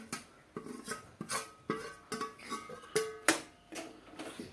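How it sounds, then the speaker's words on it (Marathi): Cashew and peanut powder stirred into sugar syrup for kaju katli, a steady run of rhythmic clanks and scrapes from a spoon or spatula hitting the pan, close and without speech. "चला आपण आता ती पाकामध्ये मिक्स करून घेऊ"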